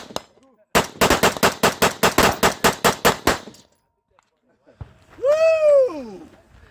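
A Cox Arms prototype rifle fires about a dozen rapid shots in a steady burst, loud and close, followed by a whoop after a short pause.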